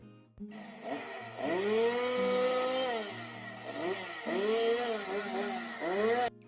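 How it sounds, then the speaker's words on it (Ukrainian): A power saw buzzes loudly, its pitch rising and falling as it bites through material in several bursts, with brief idling dips between cuts. "Це звук електропилки."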